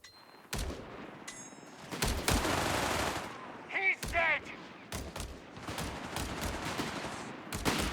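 A machine gun rattles in bursts during a Company of Heroes 3 4v4 battle, sharp cracking volleys mixed with other gunfire and battlefield noise, fairly loud and close.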